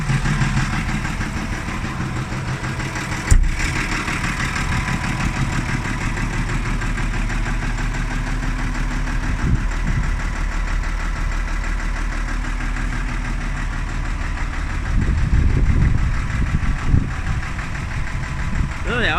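A Ford 7810 Silver Jubilee tractor engine idles steadily and close by, its low diesel rumble rising slightly in a few brief revs near the end, with someone talking over it.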